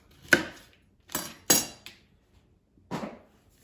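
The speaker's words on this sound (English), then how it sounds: "So first I'm going to cut off the stems of the artichokes" A knife chops through artichoke stems on a cutting board in four sharp, separate knocks, close and distinct, with quiet pauses between.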